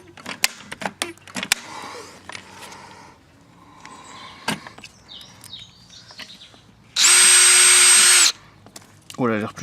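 A power drill drives a Spax screw into wooden terrace decking in one loud, steady whine lasting about a second, surrounded by knocks, handling clatter and people talking outdoors, with bird calls faintly in the background.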